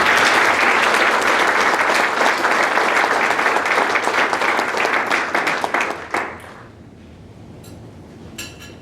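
Audience applause at the GISH Academies 2023 award ceremony, a loud, dense burst of clapping from a crowd that holds steady for about six seconds, then fades to a few scattered claps and quiet room tone.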